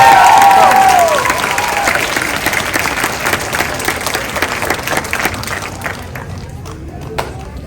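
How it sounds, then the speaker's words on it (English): At a school event honoring students with perfect attendance, an audience claps and cheers loudly, with a brief whoop at the start, then thinning applause that trails off into scattered claps and a few knocks or thuds. "Let's hear a big round of applause."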